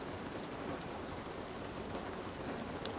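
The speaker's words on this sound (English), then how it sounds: "I've seen a lot of rain like that" Steady rain falls in the video game The Last of Us Part 1, a constant, moderately soft hiss of drops hitting surfaces with no voices over it.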